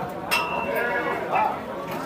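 Sheep bleat nearby at Pileru livestock market, a few overlapping wavering calls, with a person talking in the background.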